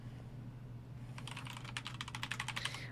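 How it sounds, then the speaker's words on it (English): Brief typing on a mechanical keyboard fitted with brown switches begins after a quiet second, a fast run of soft clicks over a low steady hum, fairly faint and close. "if you're going to get a mechanical keyboard, I recommend, and you work around other people, the brown switches aren't as loud and clacky"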